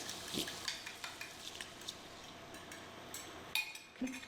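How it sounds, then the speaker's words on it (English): Beaten eggs are stirred constantly as they scramble in a pan of oil and melted margarine, with quiet, irregular spoon scrapes and soft taps over a faint frying sizzle. "Turning continually or stirring continuously, otherwise they'll set and get lumpy and not be very nice at all."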